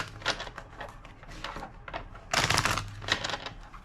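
Rapid papery riffling and slapping of a tarot deck being shuffled by hand, in quick bursts with a louder flurry near the end.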